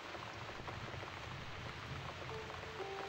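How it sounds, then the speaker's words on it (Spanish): Steady rain in the horror adventure game The Cat Lady, a continuous soft patter with a low rumble underneath and faint tonal game sounds toward the end, no voices. "Pensaba que era la lluvia"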